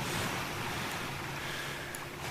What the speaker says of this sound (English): Got a storm blow pulling in. Gonna be a windy one.